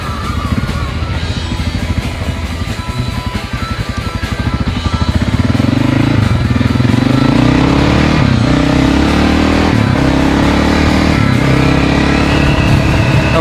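Honda XR600R motorcycle engine under way in fifth gear, a loud close single-cylinder roar that steps up and holds a strong steady note as it accelerates, with no talk over it.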